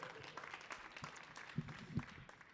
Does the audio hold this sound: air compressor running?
no